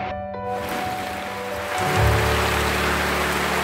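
Fast floodwater rushes past in a flooded city street near a petrol station, a continuous broadband roar that swells louder partway through, with a low engine-like hum underneath and no voices.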